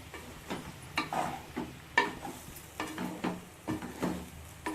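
Puffed rice being stirred into uggani upma in a pan, a series of rhythmic scraping and rustling strokes with a soft background sizzle, close and fairly quiet, with no talk.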